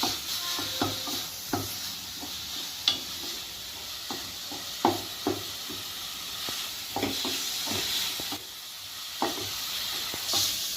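A spoon scrapes and clicks at an irregular pace through a steady soft sizzle of fresh dates frying in ghee.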